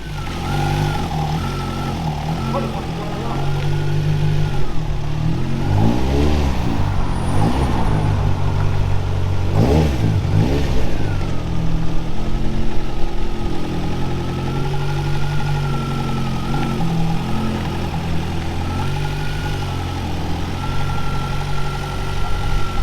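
A Ford Escort Mk2 Mexico's four-cylinder Duratec engine runs loudly on a dyno, a steady close rumble that idles, then swells through a couple of revving sweeps before settling back to an even drone.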